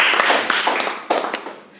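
Audience clapping for the Hellaro Gujarati film production team, a short burst of scattered claps with a few sharper hand strikes standing out, close and fairly loud, no voices over it.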